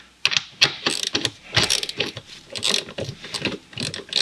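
A ratchet wrench loosens a gearbox shifter bolt on a car during a shifter bushing and gearbox oil job. It makes quick, close bursts of sharp metallic clicks in uneven, irregular strokes, with no talking.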